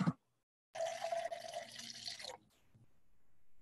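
A drink poured into a glass at a bar in a radio play, a single steady liquid pour of about a second and a half after a brief sound, then quiet room tone.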